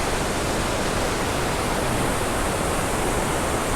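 A massive torrent of water plunging down Iguazu Falls in Argentina, a dense, constant roar of broadband rushing noise with no let-up and no voices.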